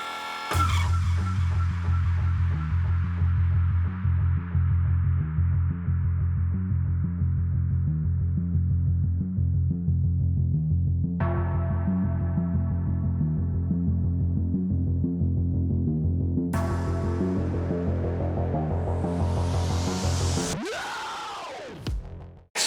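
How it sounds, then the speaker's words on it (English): A mini lathe turns a metal bracket round inside and out, its motor giving a steady loud hum with a rhythmic throb for about twenty seconds, shifting in tone as the cut changes, then spinning down sharply at the end. "To do that, I'm going to use the mini lathe again."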